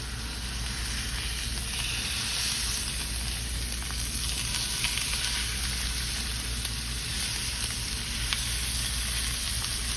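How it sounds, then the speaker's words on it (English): Pork tenderloin sears in a hot pan, giving a steady, loud sizzle and crackle of frying meat that holds even for the whole stretch with no one talking. "now pork tenderloin sears fairly quickly"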